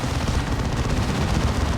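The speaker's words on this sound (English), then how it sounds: "Plasma Cannon getting a decent shot there." Plasma cannon fire from a large Warhammer 40,000: Dawn of War 2 battle, heard as a dense, continuous wash of booming, crackling weapon blasts and explosions that fill the whole stretch at steady loudness, with no voices over it.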